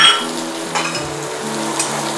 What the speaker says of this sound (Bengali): কাঁচা লঙ্কা কুচো, পেঁয়াজ কুচো সব তেলের মধ্যে দিয়ে দিলাম।